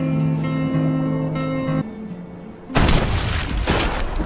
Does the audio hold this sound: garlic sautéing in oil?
no